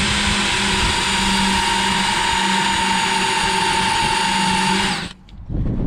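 A power drill bores out spot welds on a Dodge Challenger quarter panel, a loud steady whine of the drill running close by for about five seconds before it stops abruptly.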